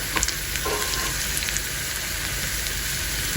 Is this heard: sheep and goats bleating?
no